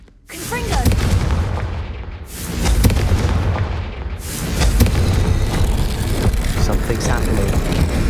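Fiery Confringo blasting spells explode in Hogwarts Legacy: loud broadband booms burst out around one, three and four seconds, each rumbling on and merging into a sustained roar.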